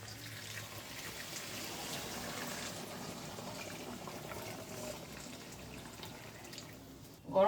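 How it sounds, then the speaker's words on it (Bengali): Hot water poured into a pan of mutton curry cooked with yogurt, a faint, steady liquid pour and trickle running for several seconds, ending with a brief louder splash or clatter. "এবার আমি দিয়ে দেবো গরম জল।"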